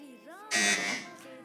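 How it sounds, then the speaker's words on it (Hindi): A quiz show buzzer sounds during a kids' Ramzan TV contest, one short harsh electronic blast. A voice talks before it and continues faintly after. "बजर बहुत क्लोज बजी है, लेकिन पहले ARMI स्कूल की टीम ने बजर बजाया है।"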